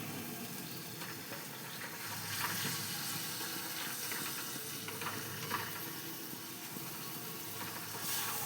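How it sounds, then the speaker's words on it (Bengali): Water runs while a curd bowl is rinsed and the water is poured into a pan for soybean kofta curry, a faint, steady splashing trickle with soft surges and a light sizzling hiss underneath, no voices. "টক দইয়ের বাটিটা ধুয়ে একটু জল দিয়ে দিলাম।"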